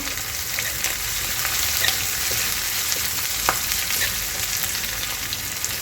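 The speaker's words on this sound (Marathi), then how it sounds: "यामध्ये आपण कांदा टाकून घ्यायचा आहे आणि कढीपत्ता टाकून घ्यायचा आहे याला आता छान परतून घ्यायचं आहे" Onion and curry leaves sauté in a pan for pithla, a Maharashtrian besan dish, with a steady dense sizzle and faint scrapes of stirring throughout.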